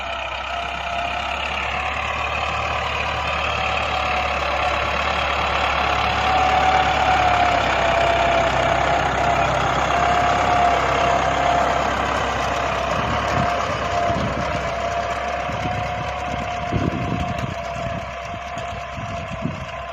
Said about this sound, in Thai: รถไถฟอร์ดครับ